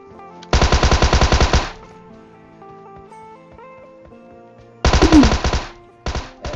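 Automatic gunfire in PUBG Mobile, fired in three rapid bursts, the first and second long, then a short one, each loud and close against a quiet in-game background.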